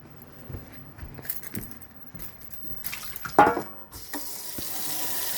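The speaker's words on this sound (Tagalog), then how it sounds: "Dagdagan ko na lang yung tubig nyo." Water splashes and trickles into a pet's bowl in short bursts, with clinks and handling noises, building to a steadier pour near the end.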